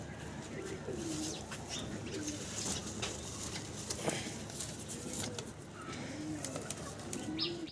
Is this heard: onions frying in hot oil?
no